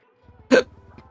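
A single short, loud burp bursts out after a soft breath, with faint low murmur around it.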